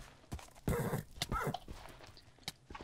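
A horse in a Minecraft Hunger Games match makes scattered, uneven clip-clop hoof sounds and scuffles at close range, with no talk over them.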